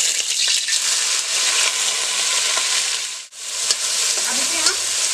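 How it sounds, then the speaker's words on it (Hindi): Shredded potato strips fry loudly in hot oil in a pan, a dense, steady crackling sizzle that holds strong throughout, dipping briefly for an instant before resuming at full strength. "अब इसे हम क्रिस्पी होने तक कराते हुए भूनेंगे"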